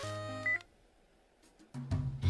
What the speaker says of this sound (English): Oh, there's the phone again.